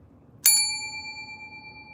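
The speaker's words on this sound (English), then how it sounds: "Bell time." A single bell rung at a crochet meeting gives one loud, bright strike that rings on with a clear, slowly fading tone for over a second.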